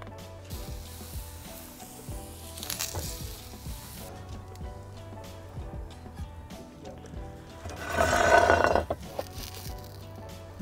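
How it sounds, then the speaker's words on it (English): Aubergine halves sizzle on an oiled griddle pan over medium heat with a soft, continuous hiss. Light clinks and scrapes from handling come through, and a louder surge of sizzling follows later. "just set your griddle pan on a medium heat, add a touch of oil, and let's grill off the aubergines"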